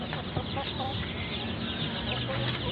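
Chickens of various breeds clucking on a farm, a dense, continuous chorus of nearby clucks and calls under steady background noise.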